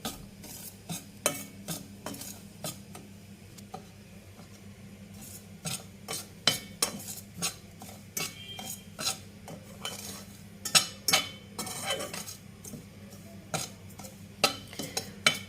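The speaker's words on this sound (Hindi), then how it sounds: "सूजी को भूनूंगी" Semolina being stirred and roasted in a frying pan, a utensil scraping and clinking against the metal in irregular strokes over a low steady background, close and fairly quiet with no talking.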